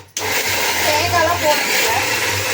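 A kitchen mixer grinder kicks on abruptly and whirs steadily while grinding a masala paste without coconut for Sankara fish curry, a loud, close motor drone with a low hum and churning texture.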